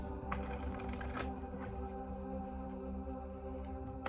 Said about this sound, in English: Let me give a good shuffle.